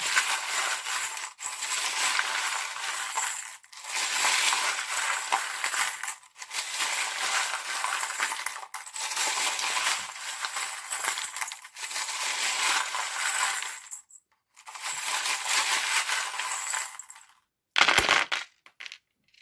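Small charms and rune pieces shaken and clattering together for a tarot card reading, a long run of dense metallic jingling and rattling in several bursts with brief pauses, close and fairly loud, no voices.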